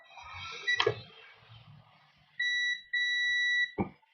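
A multimeter in continuity mode gives a steady electronic beep, sounding twice in quick succession with a short gap, after some faint handling clicks and a sharp tap.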